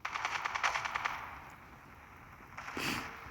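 A quick burst of video game gunfire, rapid evenly spaced shots, then a pause before another muffled blast at a distance.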